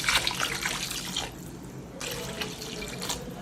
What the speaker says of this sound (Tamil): 3 டம்ளர் தண்ணி ஆட் பண்ணியாச்சு.